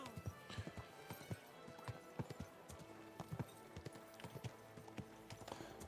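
Horse hooves clip-clop at a walking pace in Kingdom Come: Deliverance 2, a steady series of close, sharp hoofbeats with faint background ambience and no talk.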